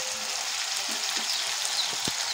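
Tomatoes fry in a pan for mutton curry, giving a steady, soft hiss of sizzling oil with faint stirring clicks, close by and with no voices.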